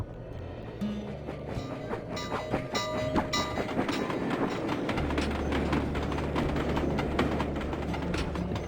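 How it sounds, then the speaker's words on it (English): A train rolls past in a video game, a steady heavy rumble with rhythmic clicking of wheels on rail, loud and close throughout with a deeper low drone setting in midway. "Don't want to find out if the train can actually kill you."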